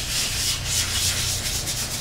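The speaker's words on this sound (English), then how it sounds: "When I sand, when you're making boats, you do a little sanding, a lot of sanding." Steady sanding on a wooden surfboard urn, a continuous rhythmic rasp with slight swells in intensity, close and fairly loud with no voices.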